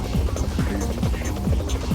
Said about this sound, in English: the helicopters took advantage of the virtually empty skies to hook up with the Cessna support aircraft, much to the delight of its pilot, James Dav